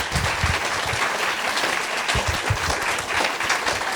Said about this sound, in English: How about a wonderful round of applause for our panelists?